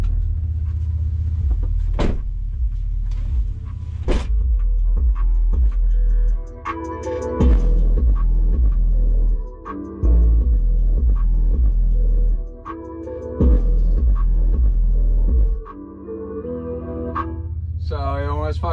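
A subwoofer in a new car booms heavy, deep bass music at high volume. The thumping beat cuts out briefly a few times, and voices talk over it.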